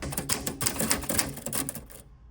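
Rapid, crisp clacking of mechanical typewriter keys struck in a quick, uneven run, close and fairly loud, ending in silence.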